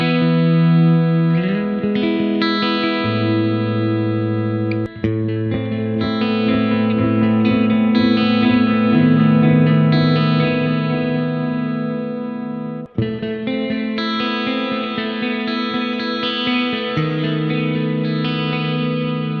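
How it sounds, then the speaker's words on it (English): An electric guitar runs through deep delay and reverb presets, sustained distorted chords and ringing notes trailing into wide echoes, loud and steady with two sharp cuts between phrases. "cycles through 3 delays and reverb combination presets that are just more and more deep and broad with every increment"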